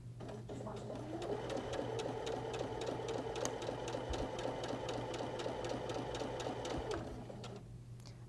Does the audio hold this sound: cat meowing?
no